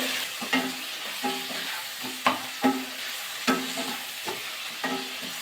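Chili powder, including Kashmiri chili powder, and spices are mixed and stir-fried in a pan: a soft continuous sizzle under about nine distinct, sharp scrapes of a spatula at a steady rhythm, no voices.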